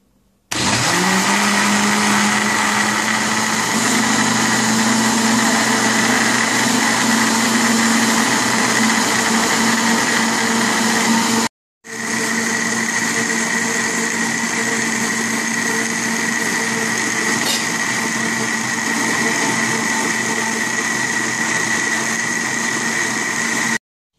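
An electric mixer beating cake batter while boiling water is trickled in, a steady loud motor whine with a constant hum that runs nearly nonstop, cutting out for a moment midway before starting again.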